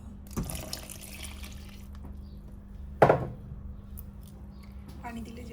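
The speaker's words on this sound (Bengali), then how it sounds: "এর মধ্যে এখন আমি দিয়ে দিচ্ছি পানি।" Water is poured into freshly curdled chhena in a pot off the heat, for making rasgulla. A short gush and splash come first, then a sharper splash a few seconds later, while someone talks nearby.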